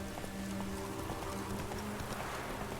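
A horse gallops on in The Witcher 3, hooves clip-clopping in a steady, even rhythm for almost three seconds at a constant, fairly close level.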